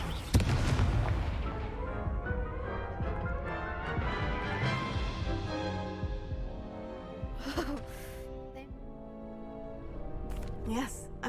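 Spell explosions from the Confringo fiery blast in the Hogwarts Legacy video game burst repeatedly amid a loud, busy battle mix of booms and crackles, with sharp bright hits near the start and near the end.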